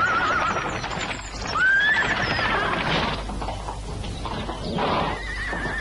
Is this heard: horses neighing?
yes